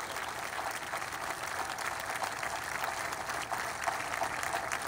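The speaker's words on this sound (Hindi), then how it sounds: "वही दिल से ताली बजाएगा" An indoor audience at a direct selling business seminar claps steadily, a dense, even wash of applause that holds at a moderate level for the whole stretch.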